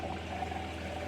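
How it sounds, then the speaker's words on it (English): A foot pedal on a Roadtrek Sprinter RV toilet is held down to flush, giving a steady rushing wash of water that runs evenly for about a second, close and moderately quiet with no talking. "to flush it,"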